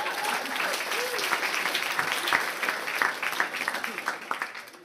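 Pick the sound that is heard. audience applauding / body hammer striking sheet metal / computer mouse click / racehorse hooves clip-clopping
audience applauding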